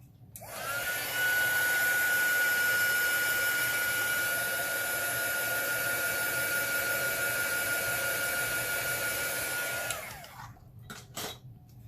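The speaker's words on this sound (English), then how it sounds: "I'm going to go ahead and take my heat gun and blow that down a little" A heat gun switches on and blows steadily on alcohol ink for about ten seconds, a close, loud whooshing hum with a high whine, then cuts off, followed by a few soft handling clicks.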